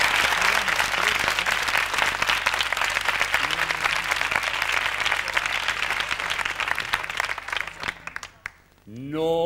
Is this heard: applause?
yes